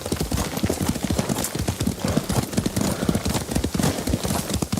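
Horse hooves clatter in a fast, steady galloping rhythm while riding in Ghost of Tsushima, loud and close throughout the short stretch.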